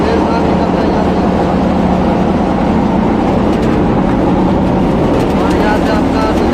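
A 2018-model rice harvesting machine working a paddy field gives off a loud, continuous mechanical roar and rumble close by, steady throughout, with a voice talking over it.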